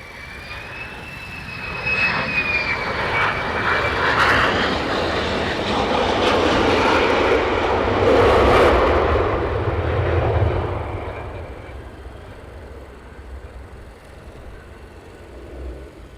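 F-15 and F-35 fighter jets pass low overhead at night near RAF Lakenheath, a broad roaring engine rumble that swells to a peak around the middle and then fades away, with a faint whine heard early on.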